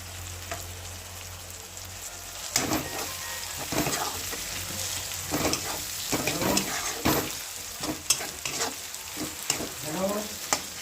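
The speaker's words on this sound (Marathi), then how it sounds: "त्याला पण 2-1 मिनिटं परतून घ्यायचं." Capsicum sizzles steadily as it is sautéed in a pan for pav bhaji. Close, continuous frying hiss runs throughout, broken by repeated scraping clatters of stirring.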